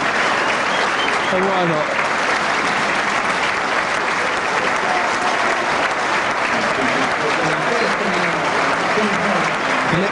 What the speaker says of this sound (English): Big round of applause from everybody here